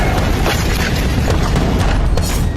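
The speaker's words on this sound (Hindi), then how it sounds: "एक धमाके ने पूरे शहर को एक झटके में खाक कर दिया।" A huge explosion destroying a city, heard as a loud, continuous rumbling roar with dense low-end boom and crackling debris throughout, no voices.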